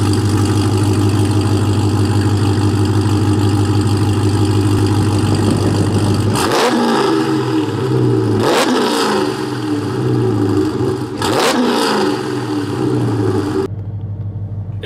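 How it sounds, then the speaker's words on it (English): An idling Chrysler 300 Redeye's catless exhaust rumbles deeply, then the engine revs hard three times, each rev rising and dropping back, loud and close. "we'll do a quick exhaust rev, show you guys how the exhaust sounds."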